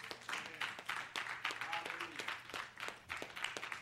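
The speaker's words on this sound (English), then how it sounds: "Give him a hand clap of praise." Church congregation clapping hands in praise during a service, a steady wash of applause with scattered sharp claps, fairly close, with voices murmuring underneath throughout.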